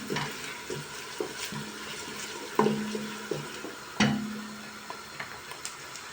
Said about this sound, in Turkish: Soğanlarım yeterince kavruldu.